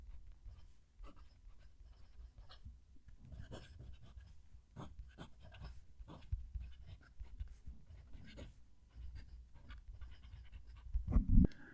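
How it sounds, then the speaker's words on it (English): A fountain pen with a small, stiff nib scratches across paper in a run of short, close, quiet strokes with soft pauses, ending in a louder rustle. "I'll move the mic so you can hear the pen write"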